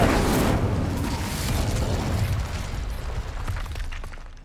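An Incendio fire spell cast in Hogwarts Legacy gives a loud burst at the start that fades into a crackling, rumbling roar, slowly thinning over several seconds.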